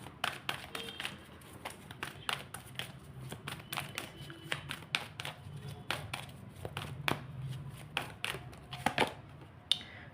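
Tarot cards are shuffled and drawn close up, producing rapid, irregular papery taps and flicks with small pauses, fairly quiet with no voice over them.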